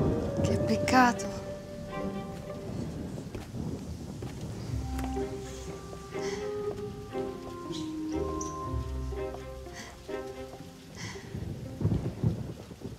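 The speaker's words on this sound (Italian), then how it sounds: "Piove?" Rain falling steadily with rumbles of thunder, heard indoors through a long stretch of tonal background sound, with voices faintly present.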